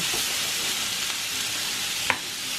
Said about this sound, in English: you want to make sure that you're doing this on high flame, because you're not steaming, you're frying.